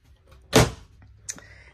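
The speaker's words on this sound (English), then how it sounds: "As I said, it has a pocket door." A pocket door slides in the aluminum living quarters of a new 2023 Merhow three-horse trailer. There is a quick close whoosh, then a short click a moment later, with no voices.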